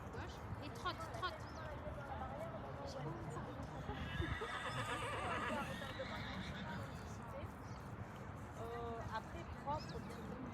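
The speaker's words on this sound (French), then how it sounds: "Valentine, elle trotte parfait, droite en C, droite" A horse trots through a riding lesson, its hoofbeats steady and close, with a loud whinny partway through and an instructor's voice calling out over much of it.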